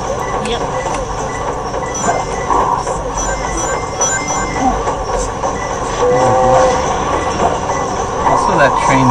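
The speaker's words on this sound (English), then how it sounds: "that train sound really freaks me out" Train rumble and wheel clatter from the Sonic Adventure 2: Battle video game, steady and moderately loud throughout, with people talking over it.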